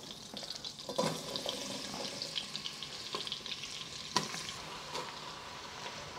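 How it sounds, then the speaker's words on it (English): Onions going into melted butter and olive oil for French onion soup produce a soft, fairly quiet sizzle, broken by intermittent scraping and stirring sounds in the pan. "Just gonna move this around to melt the butter, and then I'm gonna add my onions."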